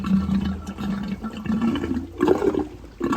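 Rushing, churning water with a low mechanical drone underneath from a running Hayward pool pump, steady and fairly close, with a louder gurgling surge near the end; no talking.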